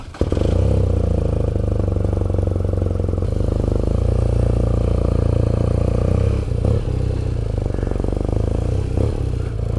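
A 2018 BMW R nineT Urban GS motorcycle pulls away, its boxer engine rumbling loud and close with steady low throb and rising revs throughout, alone without voices.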